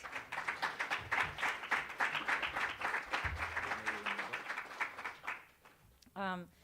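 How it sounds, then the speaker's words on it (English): A crowd applauds steadily for several seconds for a panel at a talk, a dense wash of claps that fades out, followed by a brief voice at the end. "So please give a big round of applause to have our panelists with us."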